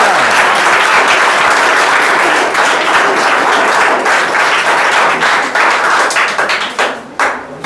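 Students clapping at a school prize distribution, loud sustained applause from a group close by, with individual claps growing sparser and trailing off near the end.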